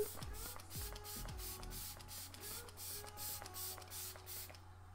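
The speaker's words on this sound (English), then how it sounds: "I'm gonna spritz some of my Glam Glow Glow Setter setting spray all over just to finish this look." Glam Glow Glow Setter setting spray is spritzed in a rapid series of short hissing bursts, close and fairly quiet, with no talk.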